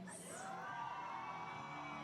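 Supporters at a rainy outdoor archery bronze match in Limerick cheer and whoop for India, a brief burst of distant crowd noise and shouts.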